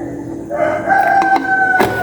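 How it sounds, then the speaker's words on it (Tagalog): A rooster crows loudly and close by, one long strained call with a few sharp accents near the end. "Nagising na yung mga manok tayo."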